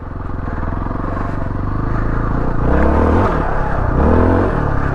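A dirt bike engine while riding, heard close and loud, with a buzzing drone that climbs in pitch as the throttle opens, along with a little mechanical clatter.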